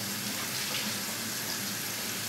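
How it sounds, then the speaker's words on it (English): Warm water runs steadily from a sink tap while a person splashes it on their face, giving a continuous close, even rushing wash without pauses or speech. "So we got some warm water. We're gonna do a quick little splash."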